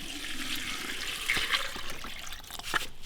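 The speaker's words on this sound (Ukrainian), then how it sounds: "Далі заливаємо води" Water is poured into a pot for a brewed plant decoction, a close, splashing, gurgling flow with a few sharp clinks.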